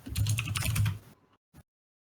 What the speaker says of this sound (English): I think I want to join in too, so I'm just gonna like smash the keyboard